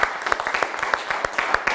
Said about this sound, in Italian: vi faccio un applauso perché anche voi avete vinto